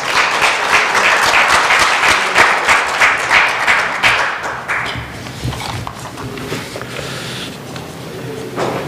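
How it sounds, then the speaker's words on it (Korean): A hall audience at a public policy forum claps to welcome the forum chairman, a dense wash of hands that swells strongly, then thins and fades toward the end. "정의근 의장님을 큰 박수로 맞아주시기 바랍니다"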